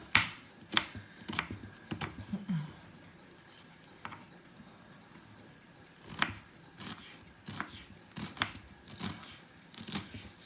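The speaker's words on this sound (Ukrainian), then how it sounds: "І нарізаємо ще другу половинку тої цибулі швиденько" A knife chops quickly through the second half of an onion on a board, with sharp, irregular taps and clicks spread across several seconds, fairly close and unaccompanied by talk.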